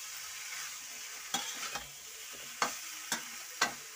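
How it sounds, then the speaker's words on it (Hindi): Cheese pasta is stirred and mixed in a pan over low heat, with faint, soft sizzling and a few sharp spoon scrapes and taps against the pan. "मंदी आंच पे हम इसको अच्छे से मिक्स करेंगे"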